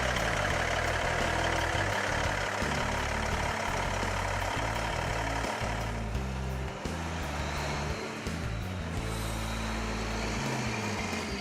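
An International 8300 tractor truck with a Cummins N14 855 diesel engine and Jake brake idles steadily up close, its low rumble continuous and loud for the whole stretch with no talk.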